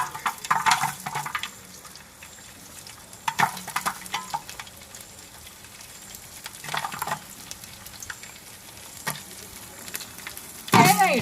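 Grated coconut frying in hot oil after mustard seeds, for a Kerala-style turkey roast, gives a steady sizzle broken by scraping stir strokes and a few louder clatters near the end.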